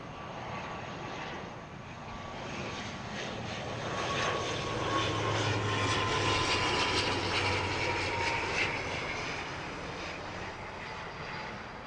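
A small ATR turboprop airliner roars at Heathrow Airport, its engine drone swelling gradually to a peak and then easing off slightly, heard from a moderate distance with no voices.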